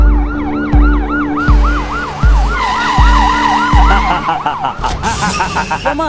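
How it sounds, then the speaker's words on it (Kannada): A loud ambulance siren wails in a rapid, repeating up-and-down pattern, close by, with rhythmic thumps early on and a shifting tone near the end. "ಆಂಬುಲೆನ್ಸ್ ಅಲ್ಲಿ ಆಸ್ಪತ್ರೆಗೆ ಕರ್ಕೊಂಡು ಹೋಗ್ತಿದ್ದಾರೆ"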